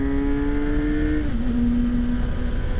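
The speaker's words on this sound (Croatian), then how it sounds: "I evo sad kad se ovako daje gas" A 2019 Kawasaki Versys SE 1000 motorcycle engine holds a loud, close, steady revving drone, then its pitch dips slightly partway through and settles at the lower note.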